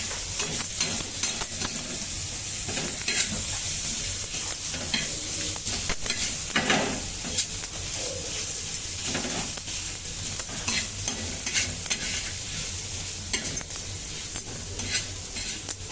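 Chopped capsicum and onion are stir-fried in a pan for a veg frankie filling, a loud continuous sizzle under repeated scraping strokes of a spatula against the metal, close up and steady throughout, with no talking.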